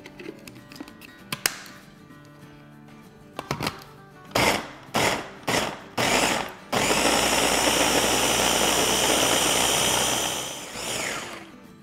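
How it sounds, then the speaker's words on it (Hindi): An electric grinder chops green bell pepper in short bursts, four or five quick pulses, then runs steadily and loudly for several seconds before winding down. No one speaks. "तो इसको अब पीस लेंगे।"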